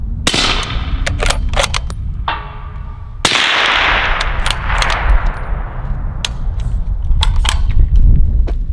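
An 8.6 Blackout rifle fires a string of sharp, loud gunshots, supersonic and subsonic rounds in turn, each crack followed by a brief ring, spaced irregularly across the stretch.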